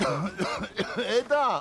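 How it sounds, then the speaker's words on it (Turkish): A man coughs repeatedly in a Turkish sitcom scene, bursts of harsh throaty coughing mixed with strained voiced sounds, close and fairly loud, with a brief spoken word in between. "Öksürmekten nefes alamıyorum."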